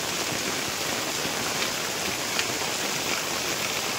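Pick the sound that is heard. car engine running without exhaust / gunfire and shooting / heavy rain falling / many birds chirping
heavy rain falling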